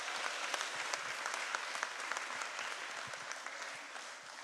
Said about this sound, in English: could you please give them a huge round of applause for them